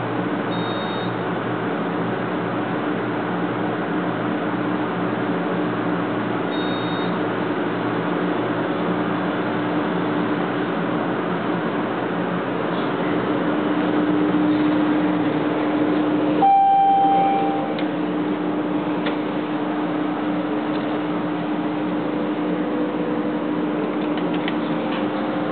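A modernized 1950s freight/passenger elevator cab descending, a steady low mechanical hum and drone throughout with faint tonal whines and a single clunk partway through.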